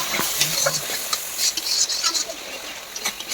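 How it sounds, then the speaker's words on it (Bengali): Spice paste with salt and turmeric is stirred and fried in a pan for a rui fish curry: a continuous close sizzle with scraping stirs and light clinks of a spoon. "মিক্স করে নেড়ে নেব"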